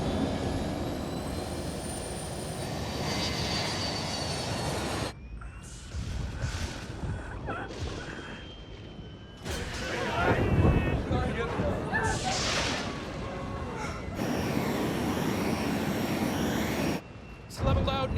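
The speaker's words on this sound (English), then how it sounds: "I see the plane approaching. It's banking a hard left." Airplane engine droning in flight in a thriller film, a steady rushing roar broken by abrupt cuts and shifts in level, with voices talking over it.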